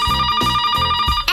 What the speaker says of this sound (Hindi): शायद बगल में कोई फोन आ रहा है